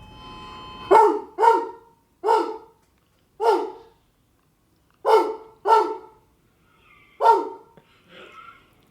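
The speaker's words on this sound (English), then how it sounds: "the video keeps going and Cam is barking" A dog barks about seven times in loud, separate bursts spaced a second or so apart, close by, with quiet gaps between and a softer whine at the end.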